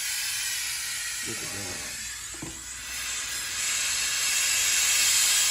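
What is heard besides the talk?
Vevor steam mop hissing steam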